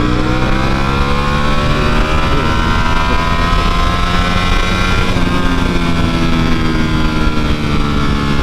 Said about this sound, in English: Engine braking for the win